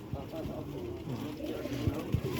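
A pigeon held in the hand coos softly in short, low repeated bursts, close and faint beneath background noise.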